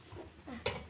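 A metal utensil scraping and clinking against a pot as food is stirred, with two sharper clanks near the end, close by.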